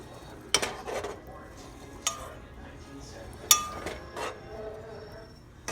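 A spoon stirring a pot, several distinct metallic clinks and scrapes against the rim spaced a second or so apart over a quiet kitchen background.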